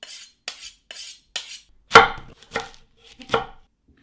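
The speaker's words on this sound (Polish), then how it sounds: "Kroimy cienkie paski." A knife slices cheese with holes and cheddar into thin strips for a cheese toast. About seven crisp cuts land close by, evenly spaced at first and then heavier and more spread out, with no talking.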